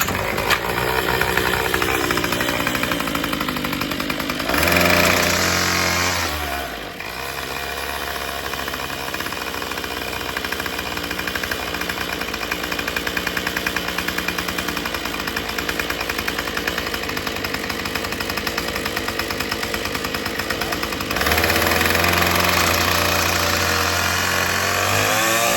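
A Craftsman weedwhacker runs after a carburetor replacement, its small two-stroke engine buzzing steadily up close, with a couple of louder revving surges when the throttle opens.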